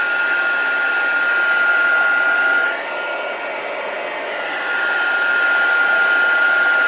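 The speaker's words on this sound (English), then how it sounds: "let's pop my heat tool back" A heat tool blowing to melt embossing powder, a loud steady close whine with a high tone that dips briefly in the middle as the tool moves, with no talking.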